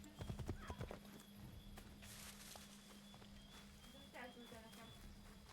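Horse hooves from the Assassin's Creed video game clip-clop in a quick cluster at the start, then fade under steady game ambience and a low hum, with a faint whinny-like call later.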